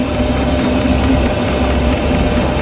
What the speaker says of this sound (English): diesel heater for the first time